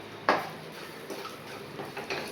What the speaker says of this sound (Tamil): அடுப்பை வந்து நல்லா மீடியமாக வச்சுக்கிட்டு நல்லா வறுத்து விடுங்க